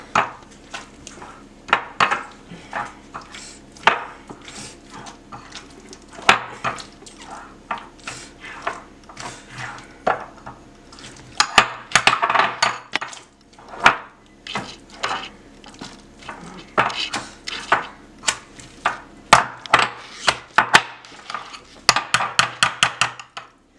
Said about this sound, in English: And start mashing it.